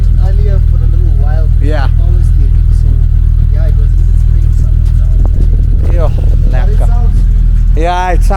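A restored BMW 535 engine idles close by with a deep, steady, loud rumble throughout, while people talk over it.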